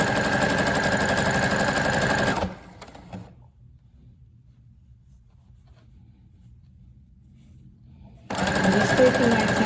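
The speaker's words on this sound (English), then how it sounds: "your Brother CS 6000i computerized sewing machine" A Brother CS 6000i computerized sewing machine stitches fabric for a scrunchie with a fast, steady mechanical whir, stops for several seconds of near silence, then starts stitching again.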